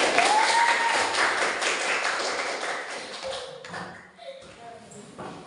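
Classroom applause from students in a science lesson, a dense burst of clapping that gradually fades out, with a whistle-like tone near the start and voices beneath.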